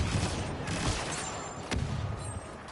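Gunfire in Star Wars Battlefront 2 on PS4, landing a headshot amid a chaotic battle: sharp shots pop over a constant noisy din, with one crisp, prominent crack standing out near the end.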